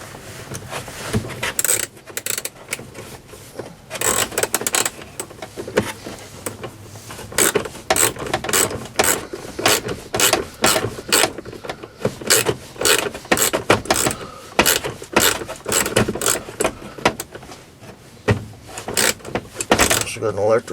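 A ratchet wrench turns a bolt during a heater installation, giving rapid repeated clicking bursts in close range, mixed with handling clatter and some talking.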